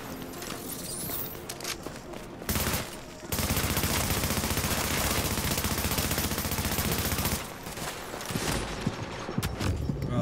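Sustained automatic gunfire in The Division, a dense, loud burst of rapid shots running through the middle of the clip, with scattered shots and game sounds before and after.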